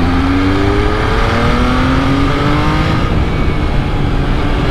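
An MV Agusta Turismo Veloce SCS motorcycle engine runs loud and close in a sustained, steady roar, with slowly shifting tones as it pulls and revs.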